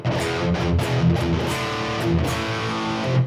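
An electric guitar plays a short run of dry, clean-ish notes and chords with a slight bite of grit, each note ending without echo tails.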